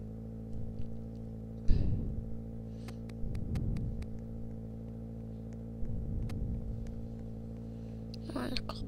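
A car engine in the Roblox game Brookhaven keeps up a constant low hum. Short revving bursts and rumbles rise over it at intervals, and a voice speaks in the background.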